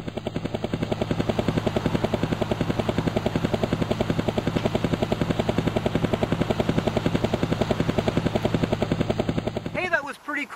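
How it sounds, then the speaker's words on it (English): A helicopter sits by a lighthouse in Port Credit, its rotor beating in a steady, loud, rapid chop throughout before fading at the end. "I just see there's a helicopter over by the lighthouse."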